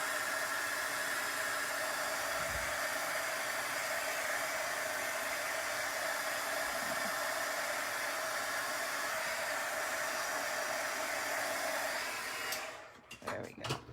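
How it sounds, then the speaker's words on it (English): A heat tool blows hot air over a handmade card to dry it, a steady loud whooshing roar that runs for about twelve seconds before cutting off, followed by faint handling noises. "So I'm going to bring my heat tool in, run it over this just for a few seconds to make sure that I'm drying that out"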